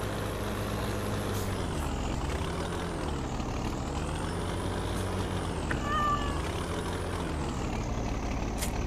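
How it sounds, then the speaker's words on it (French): A cat meows in Le Petit Limousin, its rising and falling calls repeating over a steady, loud vehicle engine drone with a brief air-brake-like hiss midway. "tu viens de récupérer ton chat là en haut du toit du bâtiment. Ouais, parce qu'il arrête pas de gueuler"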